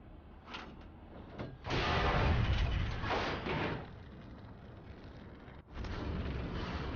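Tank cannon fire in War Thunder from a Chieftain Mk.3 battle, heard as heavy, booming blasts over a rumbling in-game background, loud and close with a sustained roar after the main impact.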